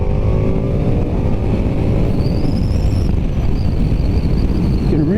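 A 2023 Ducati Diavel V4 roars steadily at close range while being ridden, its engine note shifting and rising slightly, heavy wind rush mixed in, with no talking.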